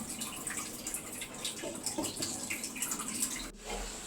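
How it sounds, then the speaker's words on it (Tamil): Steady bubbling and spluttering of tamarind curry boiling hard in a pot, close and continuous, with small pops throughout. "நல்லா கபகபன்னு கொதிக்குது பார்த்திங்களா?"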